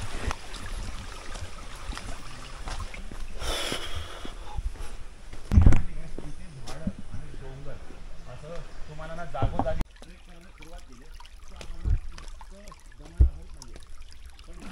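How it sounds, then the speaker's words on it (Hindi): Water from a hillside waterfall flowing and trickling steadily during a jungle trek, a constant rushing wash with occasional splashes and knocks, with people talking over it. "और उस तरफ कहीं पहाड़ से ये पानी बहते हुए नीचे आ रहा है"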